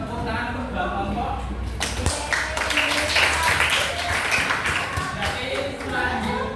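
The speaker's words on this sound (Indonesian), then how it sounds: "tepuk tangan untuk dua kelompok" Students in an accounting class applaud two groups. The room is quiet at first, then a burst of many claps starts and continues briskly, close and fairly loud, until the end.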